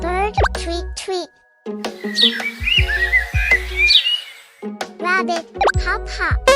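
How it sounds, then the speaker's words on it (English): A bird chirps in a run of short high tweets, set between bursts of a voice and a narrator's voice in a children's pets lesson. "Bird, tweet tweet."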